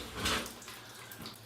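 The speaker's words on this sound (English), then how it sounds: "Well, is there water still in the back? That's what's coming out." Water runs out of a broken toilet tank: a soft, steady trickle, faint and close, with a brief stronger gush at the start before it settles.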